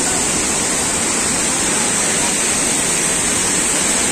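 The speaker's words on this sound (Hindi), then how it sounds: "पूरा पानी पानी फुहारा फुहारा आ रहा है।" Tirathgarh waterfall near Jagdalpur, Chhattisgarh, roars loud and steady with dense rushing and spraying water, a constant close wash of white noise with no talk.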